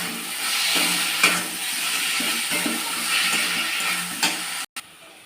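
Tomato, capsicum and chopped chilli with salt sautéing in a pan, giving a steady close sizzle and crackle with a few soft stirring scrapes, alone without voices.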